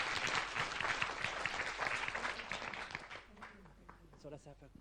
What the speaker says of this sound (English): let's thank them with a big applause.